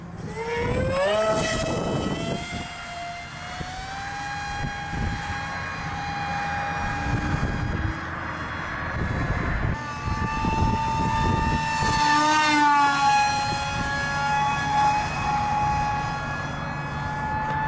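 An FRCFoamies A-10 Warthog mk2 RC foam plane flies overhead on a windy day, its electric motor giving a sustained whine that rises and falls in pitch as it passes, with wind buffeting underneath and no talk.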